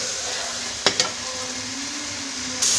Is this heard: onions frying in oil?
yes